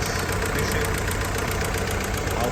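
Rebuilt Willys Jeep CJ2a engine idling up close, a loud, steady rough chug with a fast knocking pulse throughout.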